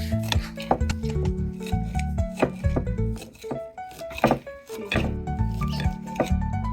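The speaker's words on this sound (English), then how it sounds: "Now it's time for you to cut the green onion." Green onion being chopped on a cutting board in a home kitchen, a close series of crisp, uneven knife strikes and short scraping rubs with no voices over them.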